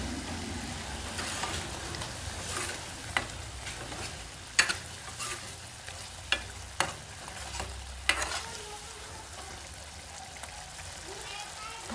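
Continuous low sizzle of food frying with fish, punctuated by sharp scrapes and clacks of a utensil stirring the pan; a voice speaks at times underneath.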